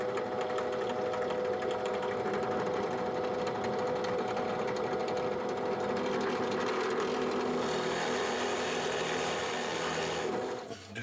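A drill boring steadily into wood for a doll stand, a continuous whirring grind held at a fairly even level for about ten seconds before it winds down at the end.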